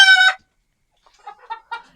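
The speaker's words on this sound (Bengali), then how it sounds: "এই মুরগিগুলো ডিম দিচ্ছে কিন্তু আমার অলরেডি" Egyptian Fayoumi chickens on a farm: one loud near crow-like squawk, then a pause and several fainter clucks in quick succession.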